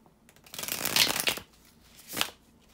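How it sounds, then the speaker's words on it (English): Tarot cards are shuffled in two quick riffling bursts, a longer papery flutter followed by a shorter one, close and clear with no voice. "bear with me a second, guys, to shuffle the tarot cards."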